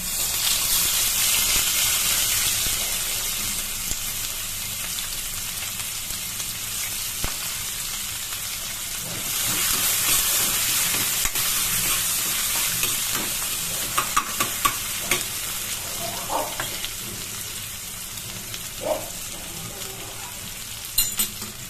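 Onions frying in hot oil left from frying pointed gourd, a dense continuous sizzle with stirring and clinks of a spatula, a brief quieter stretch midway, no talking.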